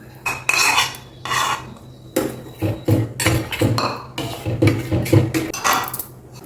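Soaked sago pearls tipped into boiling milk in a metal pot, a busy run of close clanks, scrapes and clatters of spoon and vessel over a low bubbling hum, with no voices.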